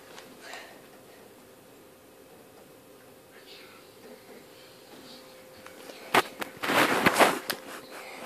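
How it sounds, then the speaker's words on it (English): Gunfire in the GTA San Andreas video game: a few sharp shots near the end, followed by a dense, loud burst of rapid shooting after a mostly quiet stretch. "People are coming in, shooting."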